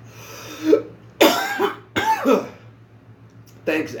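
Several hard, harsh coughs burst out in separate fits, close and loud, from someone hacking after smoking weed, with short gaps and a low steady hum between them.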